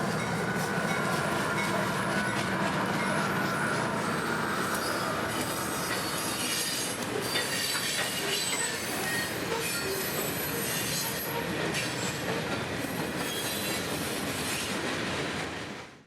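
Freight train M457, led by two GE locomotives, rolls past on the S-Line with loud, steady wheel squeal and rail noise that stays dense and close throughout before fading at the very end.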